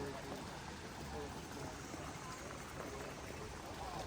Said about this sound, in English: You can hear the water stream there.